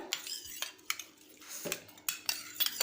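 A spoon stirs a homemade glycerin mixture in a bowl, making a quiet series of distinct clinks and scrapes against the sides at an irregular pace, close up, with no voices.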